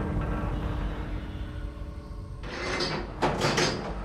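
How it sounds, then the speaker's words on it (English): A door slides open in a video game, a broad whooshing burst that rises at the midpoint and swells again near the end over a steady low game hum. "There she opened the door."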